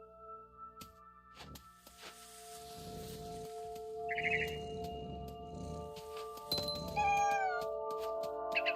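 A cat in the video game What Remains of Edith Finch gives a few soft meows and low rumbling vocal sounds beneath a steady musical drone, with a brief bird chirp and rising tones near the end.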